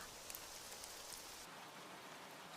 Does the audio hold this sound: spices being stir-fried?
no